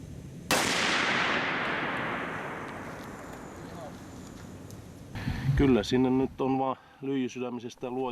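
A single loud rifle shot fired in a meat test with a copper-based Lapua Naturalis bullet booms out sharply and rings into a long decaying echo, followed by a person speaking close by.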